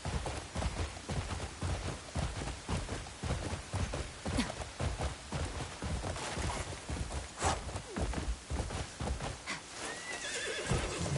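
A horse in the video game Crimson Desert neighs and whinnies amid rapid clip-clopping hooves, close and busy, with scattered clatter and a brief rising call toward the end.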